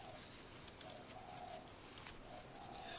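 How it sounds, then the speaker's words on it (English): Pigeons coo repeatedly in soft, low calls against a constant background hiss, faint and somewhat distant. "the birds are noisy today"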